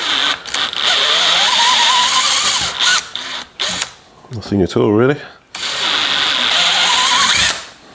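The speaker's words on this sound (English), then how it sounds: "Just going to drill these through, it shouldn't take much." A power drill whirs in repeated bursts, boring through an aluminium hub, stopping and starting, with a person briefly speaking between runs and a short grinding stretch midway.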